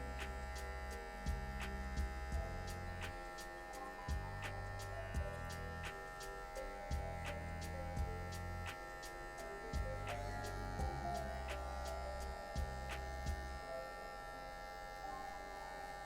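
Electric hair clippers cut a fade on very straight hair, giving a faint, steady motorized buzz with a rhythmic pulsing as the strokes repeat and small ticking clicks.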